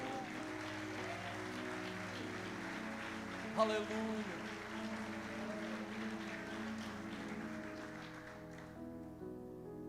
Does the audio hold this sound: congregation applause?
yes